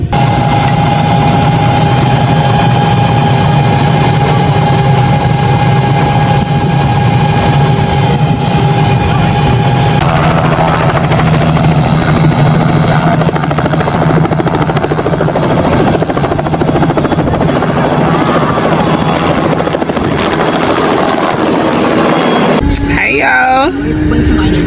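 A loud helicopter roars steadily up close, its engine whine and rotor thrum constant, then cuts off abruptly near the end.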